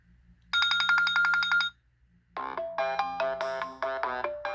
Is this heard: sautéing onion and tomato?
no